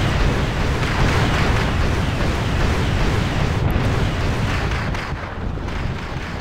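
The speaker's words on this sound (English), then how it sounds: "I've used these hogs to basically strafe this bush with rockets" A-10 Warthog aircraft strafe a bush with rockets in the real-time strategy game Wargame: European Escalation, producing a dense, loud, continuous roar of rocket blasts and explosions that eases slightly toward the end.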